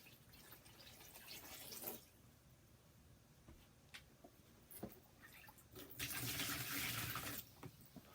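Fresh water poured into a basin bowl during bedside care, faint splashing and trickling in several short bursts, ending in a longer, fuller pour.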